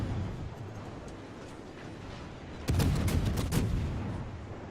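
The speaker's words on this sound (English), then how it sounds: "Get another good salvo on him." A naval gun salvo from a cruiser in World of Warships lands as a sudden loud roar of overlapping booms that rumbles on under a steady background hum of the game.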